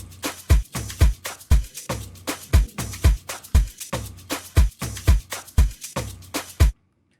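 An Afro House drum loop built in FL Studio, with a crisp clap layered over steady deep kicks, repeating in a tight, even groove for about seven seconds before stopping cleanly.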